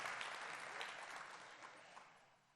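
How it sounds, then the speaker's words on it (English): Audience applause at an economic forecast annual event, a dense wash of clapping from a crowd that gradually fades toward the end, heard from some distance. "how about a round of applause for Bank of America?"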